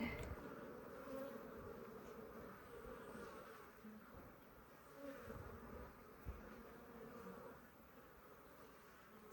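Africanized honey bees in an open hive, a steady dense buzzing drone that runs throughout, fairly faint but continuous, with light handling noises underneath.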